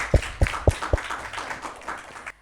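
A group of schoolchildren gives a student a short burst of rhythmic clapping, four sharp, close claps followed by a softer, scattered patter that quickly fades.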